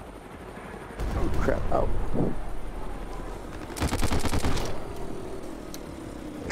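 Bursts of automatic gunfire in the War Dust VR shooter, loud rattling volleys that cut in and out, one sustained burst standing out, with a player's panicked exclamations heard around the shots.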